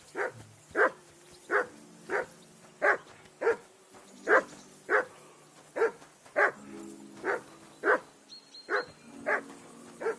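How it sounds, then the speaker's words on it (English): A dog in Kingdom Come Deliverance 2 barks insistently in a steady run of about a dozen loud, evenly spaced woofs close by, with faint whines between them. "That barking was a pain in the ass."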